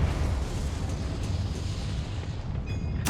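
A Confringo spell bursts into a loud explosion in Hogwarts Legacy, a broad booming blast that hits at once and rumbles on steadily before trailing off, with another sharp burst at the very end.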